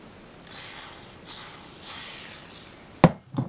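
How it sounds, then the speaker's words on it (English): Several bursts of hissing spray of WD-40 lubricant, each lasting a second or so, onto a Philips 4308 reel-to-reel tape recorder, followed by a sharp click and a short rattle near the end. "Now, this might work, this WD-40. I'll spray some and see what happens."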